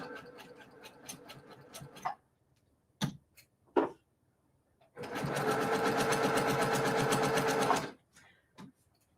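A sewing machine stitches the last seam of a quilted sampler block in a quick burst, pauses with a few clicks, then runs again in a longer steady whirring run, close and clear.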